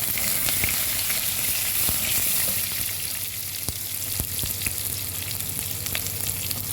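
Onions dropped into hot oil with mustard seeds and ginger-garlic paste, a loud steady sizzle with scattered sharp crackles and pops running throughout, close to the pan.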